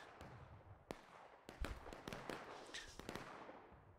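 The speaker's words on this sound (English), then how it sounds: "we got Mr. Mattis here with his guns while they're doing some long-distance shooting" Distant artillery fire in the Civil War game War of Rights, a scattered series of sharp cracks and dull booms at irregular intervals over a low background of battle noise.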